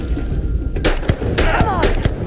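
Sci-fi firearms blast in Starfield, a rapid string of loud, close shots and bursts over a constant low rumble, with combat sounds layered on top.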